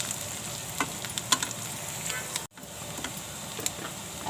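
Curry leaves and onion fry in a pan with a soft, steady sizzle and occasional small crackles and pops, heard up close and alone, with a brief gap in the middle.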